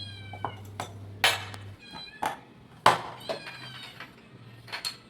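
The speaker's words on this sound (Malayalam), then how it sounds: "പൂച്ചേ പോ പോ" A cat meows several times at close range in a home kitchen, in short separate calls with small clinks between them and no talking.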